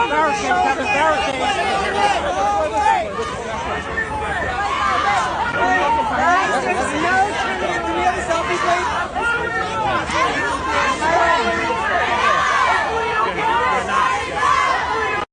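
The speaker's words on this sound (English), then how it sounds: "Protests turned personal as crowds gathered, not with admiration, but with outrage." A large crowd of protesters gathered outside a venue makes a steady, dense roar of overlapping voices and shouting that runs unbroken throughout at close range.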